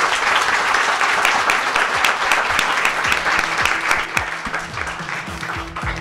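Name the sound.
audience applause for the panel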